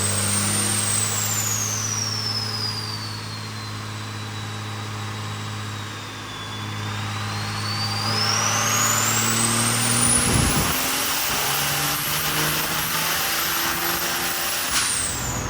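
Diesel engine with a VP44 injection pump and turbocharger during a dyno run, a steady loud drone with a high turbo whistle that dips and climbs again, near and continuous, no talking.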